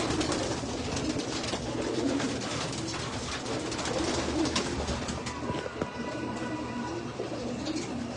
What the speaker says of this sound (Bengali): চি লাইনের কবুতর